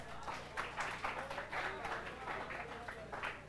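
Students applauding in a classroom lecture, a rapid scattered patter of many hands clapping at moderate loudness for a few seconds.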